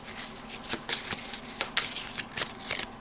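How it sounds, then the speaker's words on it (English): A deck of cards being shuffled up close during a Pathfinder card game, a series of quick riffling bursts in a loose rhythm, fairly quiet with no talking. "shuffle him back into the deck"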